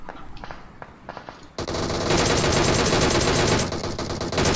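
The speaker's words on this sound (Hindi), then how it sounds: "तीनों ने इकट्ठा फायर दे दिया मेरे पे" Sustained automatic gunfire from three enemies in PUBG Mobile erupts after a few quieter shots, a loud, dense rattle of overlapping bursts that continues to the end.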